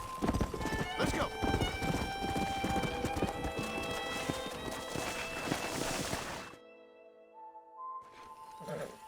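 Horse hooves clip-clop in quick rhythm in the Red Dead Redemption western game, loud and close with music over them, then cut off abruptly before a faint return near the end.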